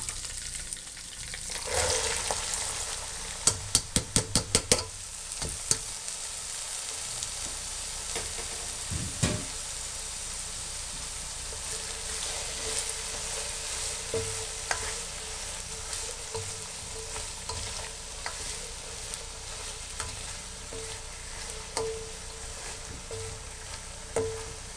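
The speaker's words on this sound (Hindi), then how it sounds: "जिंजर गार्लिक पेस्ट अब फ्राई हो रहा है।" Ginger garlic paste and vegetables fry in a pan for a Pakistani achari mixed vegetable dish, a continuous close sizzle with scattered pops and a quick run of clicking utensil stirs near the start.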